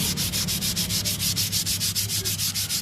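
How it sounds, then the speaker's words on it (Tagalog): Rhythmic back-and-forth scraping of sandpaper on a Mitsubishi Strada Triton brake shoe, steady quick strokes, loud and close with no voices. "Sadaan natin ng liha yan para gaganda yung preno."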